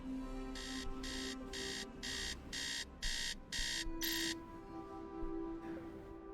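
Alarm clock in the video game Tales of the Neon Sea beeping in a run of eight evenly spaced bright electronic bursts, then falling silent, over a soft synth music bed.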